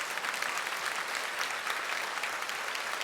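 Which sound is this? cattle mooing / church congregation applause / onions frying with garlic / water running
church congregation applause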